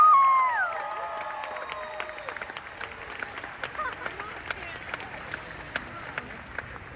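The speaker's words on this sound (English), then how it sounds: "Clap your hands like you can give me 5 more." Audience clapping and cheering at a growth conference in Los Angeles: a brief high whoop opens over a crowd, then scattered claps and voices continue steadily at moderate volume.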